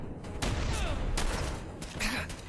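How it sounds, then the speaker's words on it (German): Gunfire in the video game Fallout 4, several loud sharp shots in quick succession over a dense, noisy game soundscape. "Das war mein letzter Schuss."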